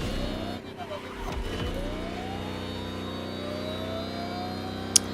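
A Lamborghini electric concept hypercar driving in The Crew Motorfest, a steady rising electric whine with rolling road noise, fairly loud and continuous, a voice talking over it and a brief sharp click near the end.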